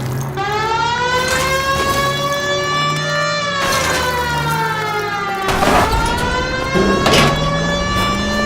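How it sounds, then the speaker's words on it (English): A police car siren wails in the video game L.A. Noire, loud and continuous with rising and falling sweeps over engine and traffic noise, near and steady throughout without talk. "People might move out of the way quicker if you use the siren."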